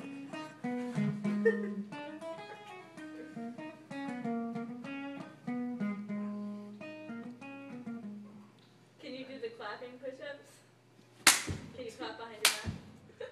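Two sharp, loud claps ring out near the end as hands clap during push-ups, following a stretch of talking and background music.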